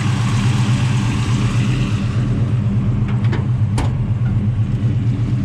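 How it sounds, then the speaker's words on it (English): A 1970 Chevelle with a 502 big block V8 idles steadily through true dual Flowmaster exhausts, a deep continuous rumble held near the microphone, with a faint brief clank partway through. "Sounds beautiful, true dual exhaust."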